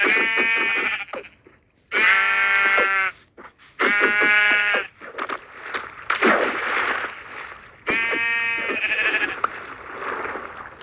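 Several loud, close sheep bleats in the video game Minecraft ring out one after another with short gaps between them, alongside light splashing and rustling in the background.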